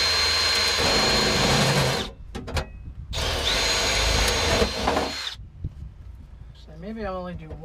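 A power drill bores screw holes in a cover plate on a 1993 Dodge Dakota during a manual transmission swap, whining loudly in two long bursts with a short stop between them; a voice speaks briefly at the end.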